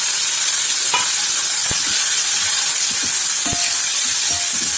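Onion, tomato, mint, coriander and dried fish sautéing in oil for a mutton curry, a steady close sizzle and hiss with a few sharp spoon or spatula knocks against the pan, no talking.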